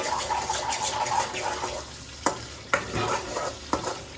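Food in a frying pan, seasoned with salt before potatoes are added, is stirred over a steady sizzle. A spoon scrapes the pan several times in crisp, separate strokes, with a constant frying hiss between them.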